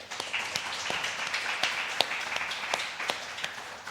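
Audience applause at a talk on baby theft from a medical perspective, faint and distant, scattered clapping continuing steadily throughout.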